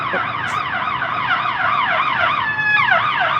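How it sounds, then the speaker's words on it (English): An ambulance siren wails in a steady, repeating up-and-down sweep on the street, loud and close throughout with no talking. "Ambulance. You gotta have them sirens on that line."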